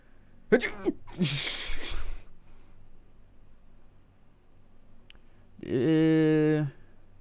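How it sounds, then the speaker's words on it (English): A streamer sneezes once in a sharp burst, followed by a short breathy aftersound, then quiet, a click, and a brief voiced exclamation close to the microphone. "Oh god, I'm gonna sneeze."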